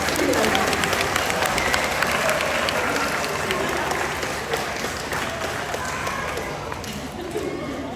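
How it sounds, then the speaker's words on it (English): An audience claps steadily for several seconds at an aquarium seal show, with crowd voices and bird calls mixed in. "I think he deserves a big round of applause as he heads off."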